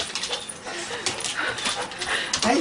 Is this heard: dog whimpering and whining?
yes